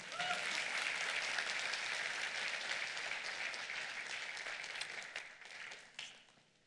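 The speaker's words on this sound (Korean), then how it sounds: "박수 쳐주세요." Conference audience applauding, a dense steady clapping near and fairly strong that gradually thins and fades out toward the end, with no talk over it.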